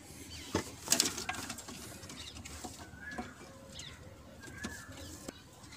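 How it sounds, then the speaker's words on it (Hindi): A female pigeon coos softly a few times, low murmuring calls spread across a quiet background with a brief rustle near the start. "ये मेरी मादी है कबूतरी है"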